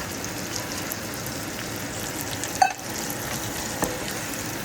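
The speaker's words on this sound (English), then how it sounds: "Adding the marinated juice, like a half a cup." Steady low sizzle of beef rib biryani cooking in a pot as marinated juice goes in, a soft continuous frying hiss with a couple of brief clinks or splashes, faint and without talk.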